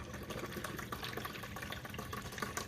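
Water poured into the reservoir of a Keurig K-Classic coffee maker, a soft continuous splashing and gurgling fill heard up close and fairly quiet, with no talk.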